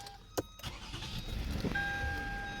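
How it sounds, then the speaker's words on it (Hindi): A vehicle engine cranks and catches after a temporary wiring fix on its indicator circuit, settling into a steady low idle with a faint whine, recorded close and fairly quiet. "फिर से इसको स्टार्ट करता हूँ"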